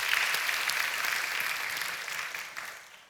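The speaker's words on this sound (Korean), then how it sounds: "노아 선수에게 한번 박수해 보냅시다" Church congregation at a Sunday service applauding for an athlete named Noah, a full, bright round of clapping that holds steady and then tapers off at the end.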